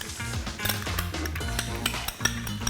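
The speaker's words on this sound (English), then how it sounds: "Mayonnaise into a bowl." A spoon scrapes and clinks against a bowl as mayonnaise is scooped in for tartar sauce, close and busy clatter over steady background music.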